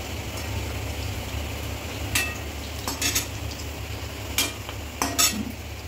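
Pieces of homegrown potato deep frying in hot oil, a steady close sizzle with occasional sharp clinks of a utensil against the pan, no voices.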